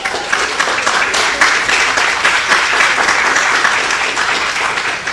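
A live audience at a panel talk on Flora Tristán breaks into loud, dense applause that holds steady and close for the full five seconds.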